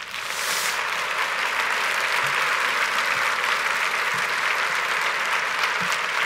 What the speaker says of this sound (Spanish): ¿por qué no le doy un aplauso al Señor?